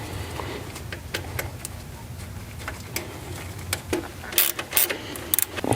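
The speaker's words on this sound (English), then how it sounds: "A little bit of wire brush action," Wire brush scrubbing the engine ground connectors on a Porsche 3.2 Carrera, heard as irregular short scratchy strokes at moderate volume, getting sharper and louder toward the end, with no talking.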